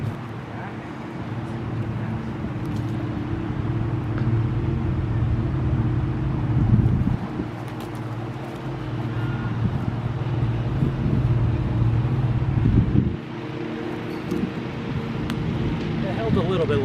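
Steady outdoor wind at about 15 mph buffets the microphone with a continuous low roar, swelling into stronger gusts at a couple of points before easing back.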